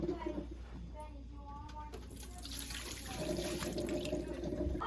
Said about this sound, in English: I'm going to be dumping down the drain.